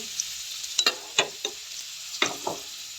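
Ginger sizzles in oil in a pan for a mussel sauté while a utensil stirs it, giving several scraping clacks over a steady frying hiss, close up, with no talking.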